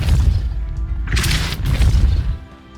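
A Depulso spell impact in Hogwarts Legacy lands as a loud, deep boom with a rumbling low body and a bright crash burst in the middle, fading off in under three seconds.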